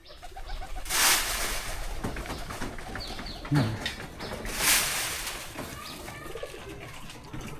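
Pet pigeons coo in a village setting, several soft low calls close by amid a noisy background, with brief rustling bursts and a hint of background voices.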